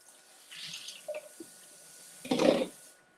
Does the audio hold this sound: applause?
no